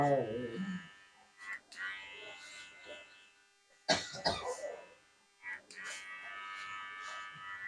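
An electric hair clipper buzzes in short bursts while cutting a medium fade haircut, the motor whine starting and stopping several times between gaps, with someone talking and coughing nearby.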